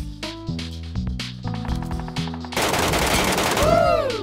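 Video game machine gun loaded with incendiary rounds fires in rapid bursts, loud and close, ending in a dense sustained volley with a ringing tail.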